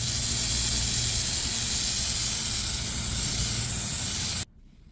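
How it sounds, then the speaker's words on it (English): A water spray rinses driveway cleaner off concrete in a steady, loud, close hiss for about four and a half seconds before it abruptly cuts off. "I'm going to go ahead and rinse it off per label instructions"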